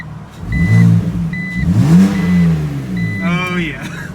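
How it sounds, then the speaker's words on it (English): A BMW Z4 with a newly fitted aftermarket exhaust revs up loud and close in a few rising and falling bursts, the last climbing sharply in pitch, while someone talks over it. "This exhaust has made me fall in love with the car more than when I bought it."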